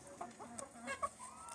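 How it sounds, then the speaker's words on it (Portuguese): Six-month-old turkeys calling, a few short faint gobbling and clucking bursts in quick succession, fairly distant and quiet. "Esses são perus de 6 meses. Ó. Já estão cantando"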